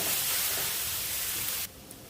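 Leafy vegetables with turmeric stir-fried in a pan, giving a steady broadband sizzling hiss that cuts off sharply near the end, leaving quieter background.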